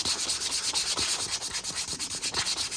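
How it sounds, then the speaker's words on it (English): A wooden spoon rest bowl is sanded by hand with 120-grit sandpaper, producing steady, rhythmic back-and-forth scratchy rubbing strokes, close and continuous. "we'll come back with the piece of 120. We're going to sand our bowl again."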